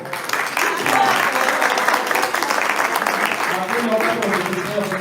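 Applause from the audience at a labour law congress, a continuous spread of clapping at steady volume, with voices talking and murmuring through it.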